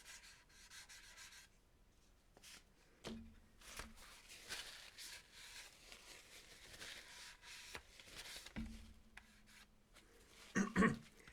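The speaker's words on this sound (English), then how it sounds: "Sands very well. Doesn't peel when you sand it." Hand sanding over a primer-coated surface, with soft, quiet rubbing strokes running throughout and brief louder scuffs near the end.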